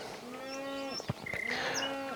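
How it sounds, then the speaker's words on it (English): Cows moo in open mountain countryside near Gudauri, Georgia, with two drawn-out, fairly close lowing calls and no talk. "a small introduction from cows."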